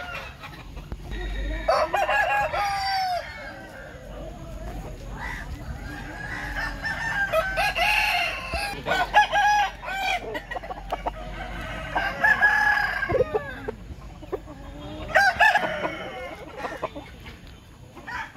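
A rooster crows repeatedly among clucking hens at a village livestock market, with busy market chatter and voices around it.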